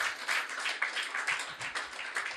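A church congregation claps loudly together during a Telugu sermon, a dense, steady wash of many hands sustained throughout without a break.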